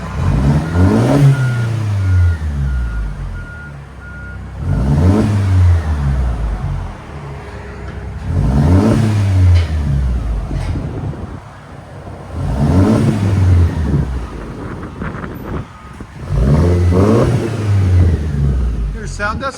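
A 2012 Mercedes C250 with its muffler deleted revs repeatedly, giving five loud, evenly spaced rises and falls of engine and exhaust roar over roughly twenty seconds with a steady idle rumble between them.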